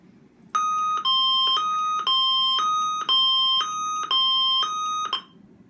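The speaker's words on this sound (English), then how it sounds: "You get a loud siren-like noise indicating that the call is being placed" A loud electronic two-tone alarm from a wireless emergency call unit alternates rapidly between high and low pitches in a steady repeating pattern while a call is placed, close and continuous for several seconds before stopping.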